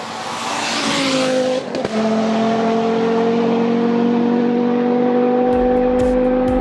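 A Volkswagen 2.5-liter five-cylinder car engine runs loud and steady with a constant droning hum, close by, with no voices.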